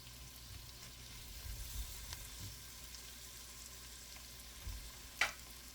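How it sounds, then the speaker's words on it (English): Onions frying in butter and olive oil in a pan, a quiet steady sizzle close by with a few faint clatters and a brief sharper clink near the end. "Let's heat up a pan with butter and olive oil and add our onions."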